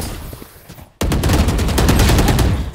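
Gunfire in the Valorant video game on the Bind map: after a quiet opening with faint footsteps, a sudden loud, close volley of rapid shots rings out in a fast, steady rhythm until the end.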